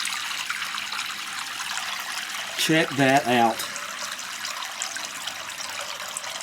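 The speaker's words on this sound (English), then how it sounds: "There's the whole hot water coming." Hot water runs from a newly plumbed tap on a porch in a short gushing burst under brief speech, set against a faint steady background hiss.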